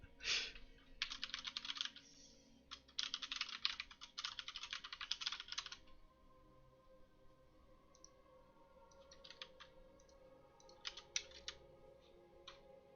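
Computer keyboard typing during a World of Warcraft game stream: quick rattling bursts of clicks in two dense runs, then sparser scattered taps over a low background hum, close to the mic.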